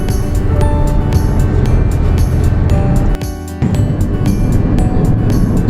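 Steady road and engine noise from a car on a long highway drive, loud and continuous throughout, with a brief dip in the rumble near the middle before it resumes.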